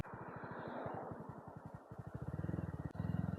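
BSA Bantam 350 motorcycle engine while riding, a close rhythmic low thumping exhaust that slows and then picks up pace with rising pulses toward the end.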